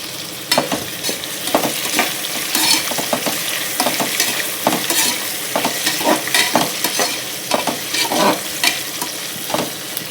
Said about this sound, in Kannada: ಚೆನ್ನಾಗಿ ಫ್ರೈ ಆಗಲಿ ಈರುಳ್ಳಿ